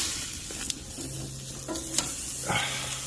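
A thick bone-in rib-eye steak, sous-vide cooked and seared on a hot grill, sizzles steadily just after being flipped, with a few faint clicks and knocks over the constant hiss, close up and no talking.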